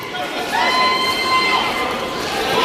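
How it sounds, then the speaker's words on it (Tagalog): A basketball crowd at a final game cheers and shouts in a sustained, loud roar of mixed voices and whistles that swells slightly and continues without a break. "Grabe yung crowd, oh. Hiyawa na, oh."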